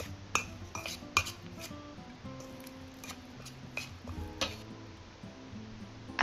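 A spoon clinks and scrapes against a bowl while yellow cornmeal is mixed with boiling water for Chinese steamed cornbread, giving irregular, close, light metallic taps with no talking.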